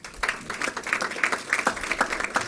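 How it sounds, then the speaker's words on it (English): Audience applause for a panelist at a diaspora business and economic development panel: dense, steady clapping from a crowd, fairly loud and continuous throughout. "Please give her a round of applause."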